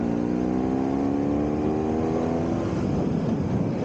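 BMW R1100S motorcycle engine accelerating on a Welsh mountain road, a loud steady drone with harmonics climbing in pitch as revs build, wind rush growing alongside.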